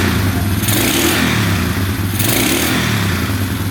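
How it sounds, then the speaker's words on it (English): ATV engine, just revived after a wiring fault, revving steadily with no knocking; a loud, continuous close-up roar that surges twice as the throttle is blipped. "Get a little rev here."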